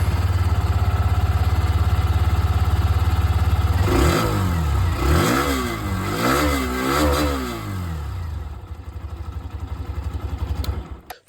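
A Hero Xtreme 125 motorcycle engine idles steadily, then revs up and down in several swells before settling back to a fast idle, close and loud with no talk.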